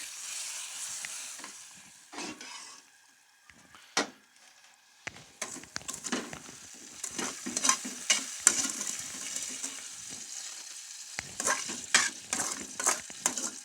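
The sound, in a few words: stirring sheer khorma in a pan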